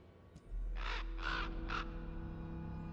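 A crow gives three distinct caws in quick succession over a low steady hum, clear and fairly close.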